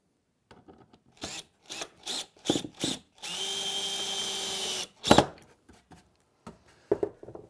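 A power drill drives outdoor-type screws through wooden cleats on a patio planter table, with several short bursts followed by one long sustained run, then a few more brief pulses, close and fairly loud.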